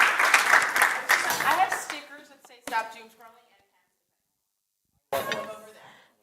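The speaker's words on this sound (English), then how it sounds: "So a round of applause, please, for all of our speakers." At a hybrid media literacy forum in Helsinki, an audience applauds the speakers in a dense burst that fades after about two seconds, followed by a voice talking with pauses between phrases.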